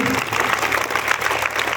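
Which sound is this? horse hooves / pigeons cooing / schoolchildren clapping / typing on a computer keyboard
schoolchildren clapping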